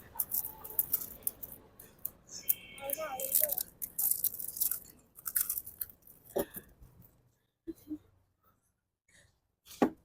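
Crisp fuchka shells crunch and get chewed in quick bursts during an eating contest, the bites coming fast and close, with brief quiet gaps between them and some talk nearby.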